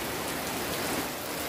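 A sudden garden downpour hisses as a dense, even wash of raindrops on surfaces. It is brief and steady, with no voices.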